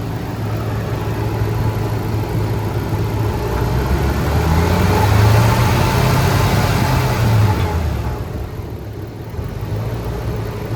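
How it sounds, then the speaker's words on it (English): A fuel-injected car engine idles steadily nearby with a low rumble and faint rapid injector ticking, briefly swelling louder in the middle before settling back. "You got the fuel injectors going."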